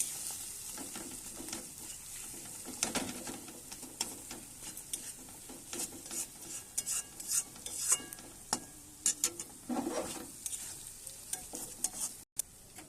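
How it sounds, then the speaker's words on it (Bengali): Egg stirred into spices in a sizzling pan, with a steady fry under repeated scraping and clinking spatula strokes that come in irregular bursts, close and fairly quiet. "একটু নাড়াচাড়া করে দিচ্ছি। ওই মশলাটার সঙ্গে ডিমটা অ্যাড করে দিচ্ছি।"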